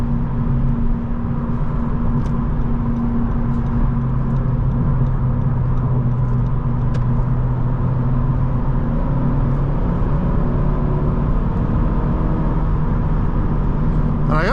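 A 2019 Honda Civic Sport with a 1.5-litre turbo engine and six-speed manual gearbox drones steadily from inside the cabin while driving. The engine pitch climbs gradually toward the end as it accelerates, over a constant road and wind hum.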